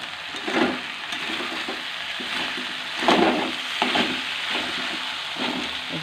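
Spice masala is stirred in a cooking pan, giving a soft continuous sizzle broken by repeated scraping strokes of the spoon, close and moderately loud, with no talking.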